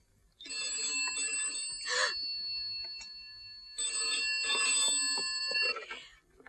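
A telephone rings in an indoor scene from a Hindi drama, two long bursts of bright, trilling electric ringing separated by a short pause, loud and close with no talk over it.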